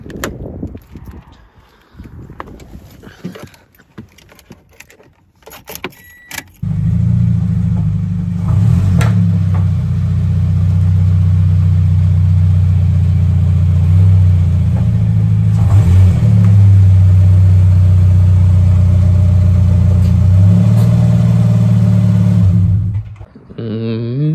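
A car engine running as the car is pulled into a garage on a cold day, a loud steady low hum that starts abruptly after some clattering handling noise, holds for about fifteen seconds with slight shifts, then cuts off.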